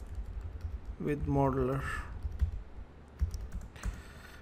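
Fingers tap out a folder name on a computer keyboard in irregular clusters of soft clicks, with someone speaking briefly over them.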